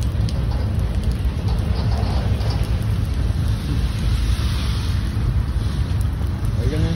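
Steady, close rain pours down in La Grange, Indiana, while a CSX mixed freight train runs by, making a dense, continuous wash of rainfall noise with no clear pauses.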